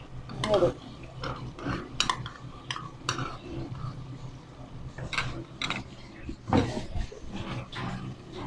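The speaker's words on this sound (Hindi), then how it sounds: "अब हम इसको मिक्स करते हैं।" Chicken being stirred with yogurt and cumin in a pot gives repeated clinks and scrapes of a spoon against metal, with a few louder knocks, under a steady low hum and occasional faint talk.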